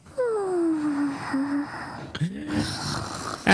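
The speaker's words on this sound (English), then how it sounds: "That's a louder snore for something that small." A small creature in the video game Genshin Impact snores loudly. A long drawn breath slides downward in pitch and is followed by a snorting, wheezy exhale.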